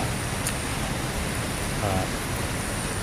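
Rain falls steadily on a footbridge, a dense, even hiss that stays loud for the whole three seconds, with no voices over it.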